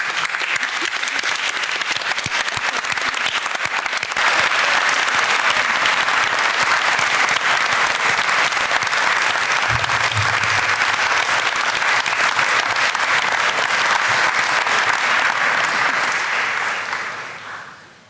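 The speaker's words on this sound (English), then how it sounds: "show your appreciation to your families and friends for all their support with rapturous applause." A large crowd at a university graduation awards ceremony claps steadily in sustained, enthusiastic applause that swells after a few seconds, holds loud and dense, then tapers off at the end.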